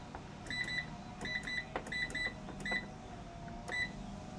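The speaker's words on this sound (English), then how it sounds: "This is the dial. You just turn it to choose the setting." A washing machine's selector dial is turned to choose a wash setting, giving a series of short, bright electronic beeps in an irregular rhythm over a low hum, close and moderately loud.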